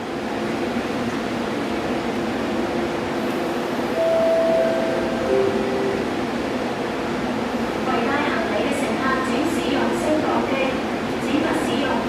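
An MTR train departs Tsing Yi Station with a steady, loud mechanical hum and rumble, a few short electronic tones partway through, and a voice talking over it.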